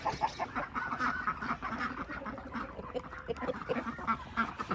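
Ducks quack and honk continuously in a backyard duck run beside the coop, a busy overlapping flock chorus at close to moderate distance with no talk.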